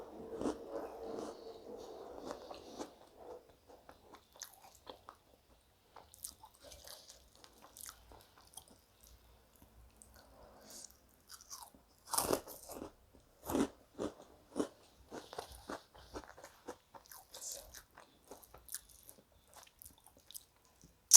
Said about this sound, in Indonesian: Kerupuknya renyah.